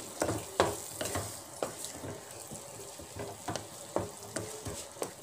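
Paneer and peas being stirred in a frying pan, a soft sizzle punctuated by a regular series of spatula scrapes and taps against the pan, close and moderately loud.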